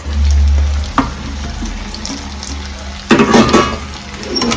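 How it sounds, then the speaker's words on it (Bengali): Dried chillies, chopped ginger, garlic, spring onion, onion and capsicum fry in hot oil, with a close sizzle and bursts of stirring and clattering, plus a louder crackling surge partway through. "একটু ভাজা ভাজা হচ্ছে"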